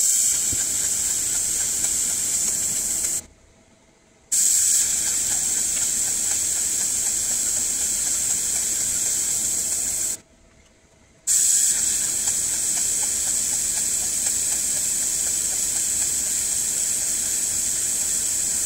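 A 50W fiber laser fitted with a 200 mm lens is marking, making a steady, high, hissing buzz that cuts out twice for about a second before resuming.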